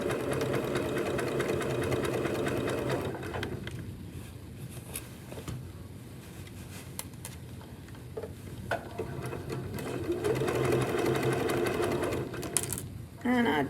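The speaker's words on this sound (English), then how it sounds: "And I sew the skirt on with that same, see the side of my presser foot?" A sewing machine stitches a skirt on, using the side of the presser foot as a guide; its steady motor whir runs for a few seconds, eases off, then returns in a second run, with a voice talking nearby.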